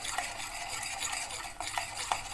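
A spoon scrapes and stirs flour frying in vegetable oil in a pan with a soft, steady sizzle, with occasional light knocks of the utensil.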